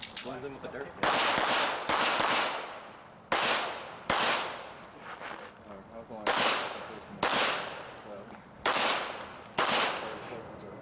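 Pistol shots from an IDPA shooter running a practical shooting stage, loud sharp reports in clustered bursts and single cracks spread across the stretch, close to the microphone.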